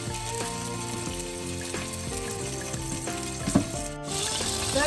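Butter melts in a pan before semolina is roasted, giving a steady, soft sizzle that runs throughout under faint tonal background sound.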